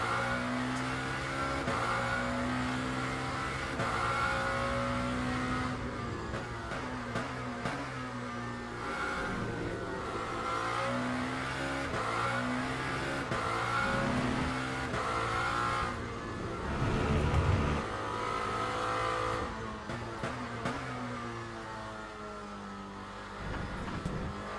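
Endurance race cars from the WEC field lapping the Bahrain circuit in a racing game, engines droning steadily with shifting harmonic pitch as they rev and change gear, loud and continuous throughout, with a brief heavier rumble near the end.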